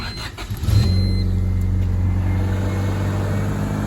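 A car with a newly repaired clutch idles steadily after a brief rising rev, the engine running close and loud with a low, even rumble as it is shifted into gear.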